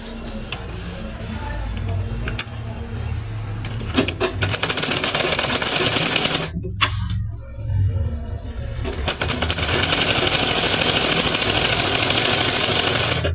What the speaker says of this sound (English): I'm going to place the belt at this 9 inches and I will sew it down